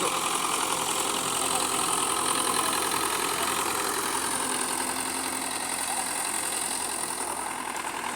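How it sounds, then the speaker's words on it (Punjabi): A Russian tractor engine runs steadily and loudly up close while making field ridges, a constant throbbing rumble with no pauses and no voices. "ਰੂਸੀ ਟਰੈਕਟਰ ਆਇਆ ਹੋਇਆ ਤੇ ਬਨੀਆਂ ਪੈਂਦਾ ਪਿਆ"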